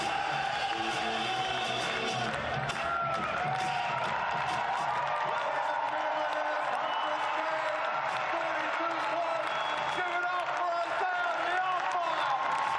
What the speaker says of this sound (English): You can hear the Wellington crowd paying back for the efforts of their group